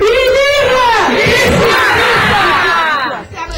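A huge crowd of party supporters roars and cheers at a political rally at the Tocoin community centre in Lomé, a loud, dense, sustained mass of voices that fades slightly at the end.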